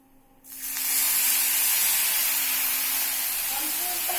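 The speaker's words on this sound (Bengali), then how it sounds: "তেলটা প্রায় গরমও হয়ে গেছে এবার আমি এর মধ্যে একটু জল দিয়ে দিচ্ছি" Water splashed into hot oil in a pan while cooking tamarind pickle erupts in a sudden loud, steady hiss that continues strongly for several seconds, starting after a brief quiet moment.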